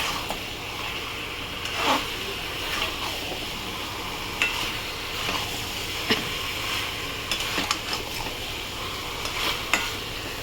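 Chicken kosha being stirred in a pan, with a steady sizzle of frying and occasional scraping clicks of the spoon across the pan, close and moderately loud, no talk.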